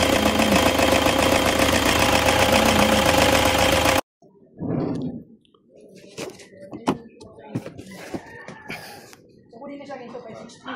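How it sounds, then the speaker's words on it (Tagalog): A 2015 Toyota Hi Ace Commuter van engine running with a loud metallic rattle, a dense close clatter for about four seconds, then cut to quieter knocks, door-like thuds and scattered speech. "Yung lakas ng kalansing, oh. Sa makina na yun nyo."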